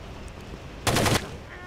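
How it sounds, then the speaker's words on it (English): Gunfire in the tactical shooter game Rainbow Six 3: Raven Shield, a short dense burst of rapid shots lasting about a third of a second, loud against a quiet background with no talk. "See, like, the gunshots there, I have no idea where they came from."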